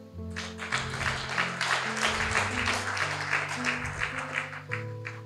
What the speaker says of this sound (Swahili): Hebu tuwapigie makofi.